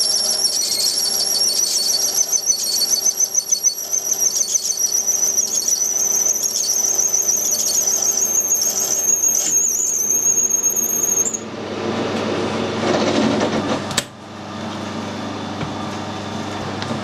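A steady high-pitched squeal from a drill biting into bronze goes on for about eleven seconds and then cuts off, leaving lower grinding machine noise and a single sharp knock.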